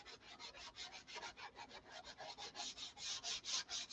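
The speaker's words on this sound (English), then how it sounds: "Been sanding all day." Steady back-and-forth sanding strokes scrape a Viper's car body in an even, quick rhythm, fairly quiet, with no talking.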